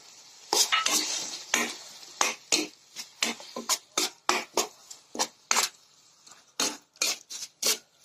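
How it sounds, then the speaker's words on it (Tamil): Chopped tomatoes with salt and turmeric sauté in a pan, a spoon scraping and tapping against the metal in quick, uneven strokes over a soft sizzle, close up and without speech. "மஞ்சள் கொஞ்சம் இதிலே சேர்த்து வதக்கிக்கலாம்"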